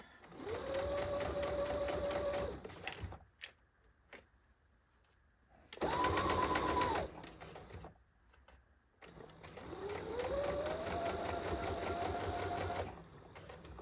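Sewing machine stitching a dart on a half-scale jacket, running in three bursts with short pauses between them, close and steady, with a pause at the needle-down pivot.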